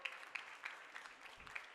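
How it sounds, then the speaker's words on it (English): Brookline supporters clap in a gym at a girls' high school basketball game, a faint, brief patter of scattered applause from a distance. "now Gianna Bryant checks out to some applause from the Brookline faithful"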